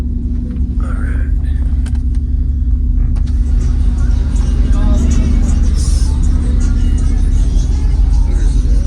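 Subwoofers in a car trunk pump bass-heavy music, a loud constant low rumble filling the cabin with faint voices underneath.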